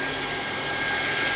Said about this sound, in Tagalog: mag-blower na ako ng buhok.